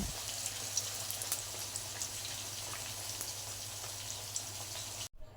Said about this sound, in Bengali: সকাল সকাল কিন্তু বড়া ভেজে নিচ্ছি